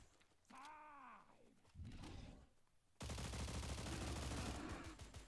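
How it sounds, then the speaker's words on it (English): Video game gunfire from an enemy in Stalker breaks out in a rapid, steady automatic burst after a few seconds of groaning creature noises and rumbling, and stays loud and continuous to the end. "now he starts shooting"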